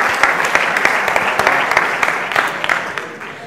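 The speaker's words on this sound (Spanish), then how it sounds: "Un aplauso por los alumnos de hostelería," Close, lively applause from an audience at a talk in the Basque Country, cheering hospitality students; distinct individual claps stand out in a short burst that fades toward the end.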